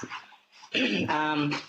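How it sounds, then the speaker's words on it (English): A puppy whimpers and barks indoors during an online planning committee meeting, giving a few close, loud, high whines and yips that run together. "Apologies for the background noise,"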